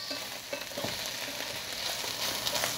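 Salted peppers cooking in a pan on a stove, a moderate, even sizzle with small scattered crackles and faint stirring taps throughout, no voices.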